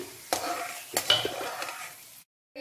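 Quiet sizzling of peanuts in hot oil, with a few sharp scrapes and clinks as a spoon stirs the pan. The sound then cuts to silence.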